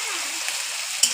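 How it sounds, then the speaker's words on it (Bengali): Prawns seasoned with salt and turmeric fry in a pan, giving a steady close sizzle with a soft crackle that lasts throughout. Near the end a brief sharper spike cuts through, and no one speaks. "চিংড়ি মাছগুলো ভাজা হচ্ছে।"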